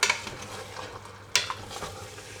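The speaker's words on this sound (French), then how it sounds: "Donc on peut ajouter les tomates. À nouveau, on mélange bien." Eggplant and tomatoes stirred in a cooking pot, a utensil scraping with two sharp clinks against the pot over a faint sizzle, close and fairly quiet with no talking.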